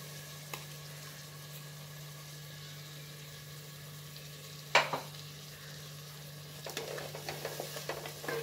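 Ground tomato paste sautés in a pot, a soft, steady sizzle under a low hum, broken by a sharp scrape of stirring midway and a run of clinking stirs toward the end.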